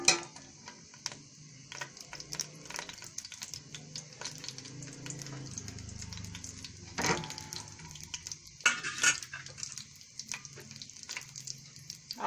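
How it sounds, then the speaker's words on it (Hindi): Garam masala fries in a pan with a soft, continuous sizzle, broken up by intermittent scraping and clinks of a spoon against metal, fairly close and moderately quiet. "गरम मसाले को थोड़ा फ्राई कर लेंगे।"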